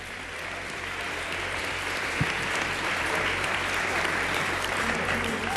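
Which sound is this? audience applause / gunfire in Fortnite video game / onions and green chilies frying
audience applause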